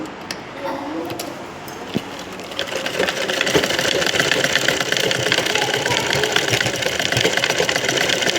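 A sewing machine joins a back piece to a neckline, starting after a quieter moment and then running in a steady fast mechanical whir at close range, with a voice talking over it.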